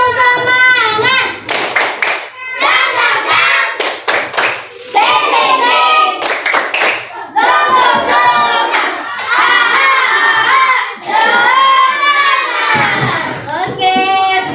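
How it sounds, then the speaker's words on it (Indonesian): A school class claps out a spirit clap in rhythmic bursts of hand claps, with children shouting and chanting between them, loud and close, filling the room in the classroom. "Oke, tepuk tangan untuk semangat kalian semua."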